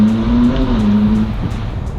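Ferrari 458 Spider V8 in sport mode, revving with a steady droning engine note that holds, then eases off slightly, loud and close with no talk.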